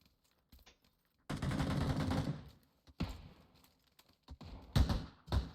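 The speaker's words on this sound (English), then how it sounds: "He's up the hill shooting at us." Gunfire from an enemy up a hill in the battle royale game PUBG: a quiet scene breaks into a sustained burst of automatic fire, followed by scattered shorter bursts and isolated sharp shots.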